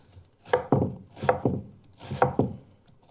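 A knife chops vegetables for soup on a wooden cutting board with six close, distinct thuds falling in quick pairs, loud and alone.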